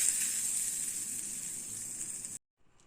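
Hot tempering of mustard seeds and asafoetida hits a mixture with a steady, bright sizzle and hiss that fades slightly, then cuts off abruptly into near silence.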